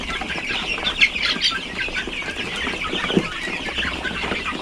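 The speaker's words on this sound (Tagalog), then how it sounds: "Native chicken." Native chickens on a Philippine farm, a flock clucking and murmuring close by, with a couple of louder squawks standing out over a busy background of bird calls.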